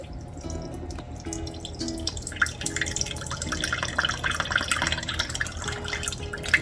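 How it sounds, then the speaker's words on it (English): Evaporated milk poured into sweetened condensed milk in a kitchen, a steady liquid trickle and patter running several seconds over faint background hum. "I'm going to add in the evaporated milk."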